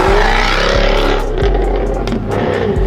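Modified supercharged Jaguar F-Type V8 with an aftermarket exhaust, 550 BHP, roaring loud and close as the engine revs rise and dip across short gear changes, with no voices.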